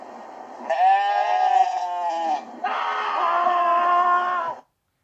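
Goats bleat up close in two long, wavering, nasal calls, one after another with a brief gap between them, loud and alone before cutting to silence.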